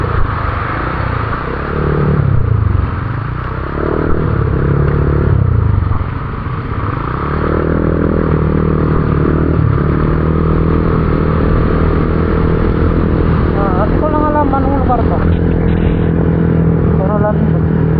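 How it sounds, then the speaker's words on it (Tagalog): Motorcycle riding on a road in traffic in the Philippines, a steady engine drone running throughout with some clatter, with someone talking over it most of the time. "Pero yung motor kasi tulad na ito, pwede lang dumaan."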